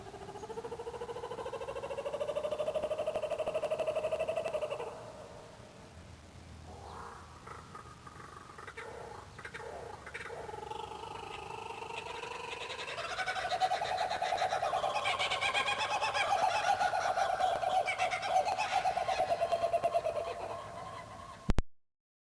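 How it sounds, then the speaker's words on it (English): Laughing kookaburra giving its raucous rising-and-falling call, a long rolling chuckle that swells louder in the second half and continues to the end, with no talking. "one of everybody's favorites, a sound I'm sure you've heard in countless jungle movies, the laughing kookaburra"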